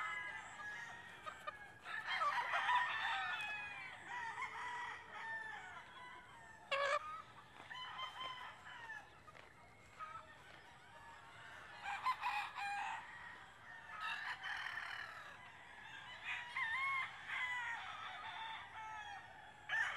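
Several young rooster stags crow repeatedly, with overlapping cock-a-doodle-doo calls and occasional clucks, some near and some farther off, in a quiet yard with no talking.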